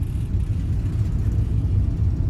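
A car's engine runs during a driving lesson, a steady low rumble and whir from inside the moving vehicle at moderate volume.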